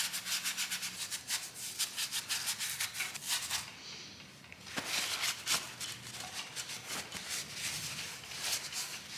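A Ducati 996 suspension housing being cleaned, with continuous rubbing and scrubbing strokes in quick repeated bursts, close but fairly quiet and alone.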